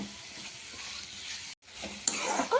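Green brinjal curry frying in a pan, a steady close sizzle with stirring scrapes, a brief silent break, then louder crackling.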